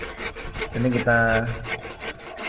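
A wooden pole for a scrap-built gazebo being sawn, rhythmic back-and-forth strokes rasping steadily up close, with a short stretch of brief talk partway through.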